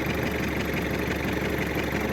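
An MTZ-80 tractor pulls a PLN-3-35 plough through a wet field, its engine holding a steady, loud, close drone with a rough knocking texture and no voices.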